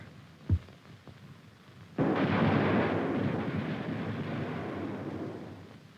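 Artillery fire from a 1960s army weapons test, a single heavy boom that rolls into a long rumbling roar and slowly fades over several seconds, loud and distant-sounding, with no talk.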